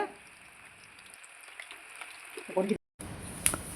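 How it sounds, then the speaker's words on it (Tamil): Dried chili, ginger and garlic fry in sesame oil, a faint, soft sizzle with light stirring scrapes that swell briefly near the end before a short gap and a final clink. "மிளகா செவந்ததும் எடுத்து வச்சுக்கிற இஞ்சியும் பூண்டையும் அதில் போட்டு கிண்டுங்க"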